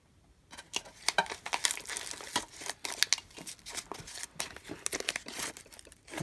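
Packing paper crinkles and rustles close up as a 1986 vintage 7.62x54R Mosin Nagant spam can is unboxed. The sound comes in irregular bursts of crumpling and tearing that continue throughout.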